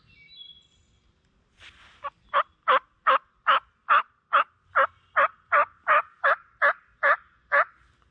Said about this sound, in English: I just heard a gobbler kind of far away go off.